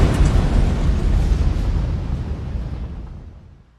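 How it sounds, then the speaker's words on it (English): An animated sound-effect explosion as flames shoot through a pipe into a storage tank: a loud, sustained roaring blast with heavy low rumble that slowly fades away over a few seconds. "Flames shoot through a pipe into the next tank, causing an even more violent explosion."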